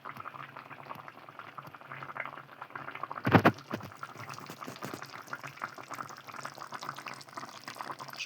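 Chicken breast, legs, wings and back sizzle steadily in a pan as a dense, crackling hiss. Midway there is a louder burst of spitting, then the crackle continues on its own.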